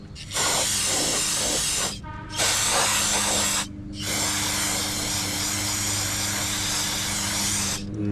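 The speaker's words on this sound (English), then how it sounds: "we're gonna spray it with brake cleaner, clean it up a little bit." Loud hissing bursts from an aerosol can of brake cleaner sprayed onto an NB Miata valve cover area, two short sprays followed by a longer continuous one, close up.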